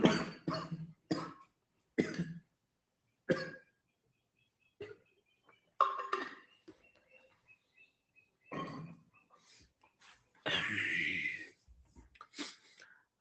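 Repeated harsh coughing from a single person, one close and loud burst after another with short gaps between them, and a longer, raspier cough-and-throat-clearing fit near the end, with no talking.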